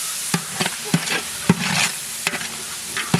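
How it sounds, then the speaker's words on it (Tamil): Ginger garlic paste being stirred into onions frying in a pan, with a steady close sizzle and repeated spoon scrapes and knocks against the pan, several per second. "இப்போ இஞ்சி பூண்டு பேஸ்ட் சேர்த்துக்கலாம் நல்லா கலந்து விட்டுக்கலாம்"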